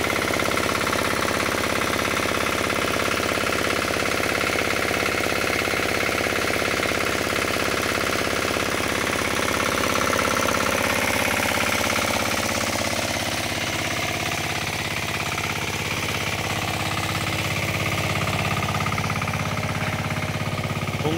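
A drilling company's generator running at a work site, a loud continuous engine drone with rough mechanical vibration holding steady from start to finish, no talking.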